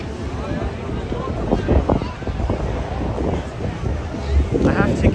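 Strong wind buffets the microphone on a windy night in New York City's Midtown Manhattan, a loud, continuous rumbling roar with gusting surges and no speech.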